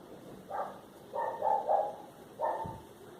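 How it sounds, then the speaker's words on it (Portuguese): A neighbour's small dog barks a few times at a distance, three short bursts of yapping spaced about a second apart, faint over a quiet, steady room hum. "E o cachorrinho latindo aqui,"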